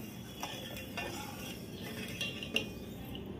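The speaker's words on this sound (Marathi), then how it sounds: "आता हे पातेलं मी गॅसवर ठेवलंय आणि आपण ही आता साखर ढवळून घेऊया" A spoon stirs sugar and water in a steel pot set on a gas flame, giving faint scattered clinks and scrapes against the metal over a low steady background hiss.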